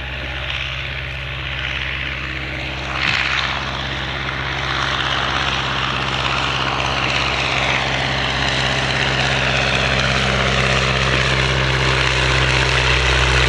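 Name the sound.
Avro triplane replica aircraft engine and propeller rolling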